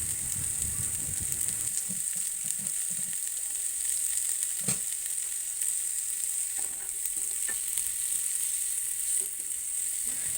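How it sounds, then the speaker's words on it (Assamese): Chopped tomatoes fry in a pan with a pinch of salt and turmeric for an egg curry, giving a steady soft sizzle with a few stirring knocks and scrapes in the first seconds, no talking. "বিলাহীখিনিও ভালদৰে ভাজি ল'ম। অকণমান নিমখ দি দিছোঁ, লগতে অলপ হালধিও দি দিছোঁ।"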